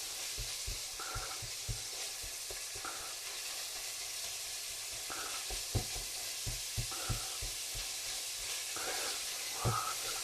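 Minced meat for keema pasta sizzles steadily in a hot pan, a constant close frying hiss broken by occasional soft knocks and stirring scrapes, with no talking.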